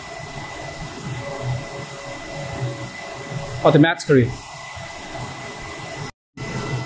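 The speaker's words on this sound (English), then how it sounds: "So now printer starts to do the head cleaning" A Focus Alpha Max 6250 large-format printer runs its print-head cleaning cycle, a steady mechanical hum and hiss lasting throughout, while someone speaks briefly midway and the sound cuts out for a moment near the end.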